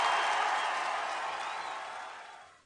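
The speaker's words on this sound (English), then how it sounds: "let's go ahead and give them some applause" Recorded crowd applause and cheering played back as a sound effect, a steady dense wash of clapping that holds level and then fades out at the end, with no talking over it.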